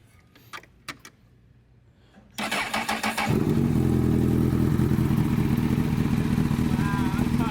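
A few small clicks in near silence, then a Honda CBR1000RR sport motorcycle engine, rebuilt after a wreck, cranks and fires up, settling into a loud, steady, rumbling idle close by.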